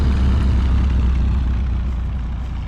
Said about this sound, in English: apparently doesn't include the sound the tractor makes.